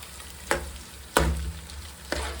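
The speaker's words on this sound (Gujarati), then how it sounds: "હવે નાખશું મરચા, એને સરસ રીતે સોતે કરશું આપણે." Two medium Kashmiri chilies sautéing in a hot pan, a steady sizzle broken by three sharp stirring bursts spaced about a second apart, close and fairly loud, with no talking.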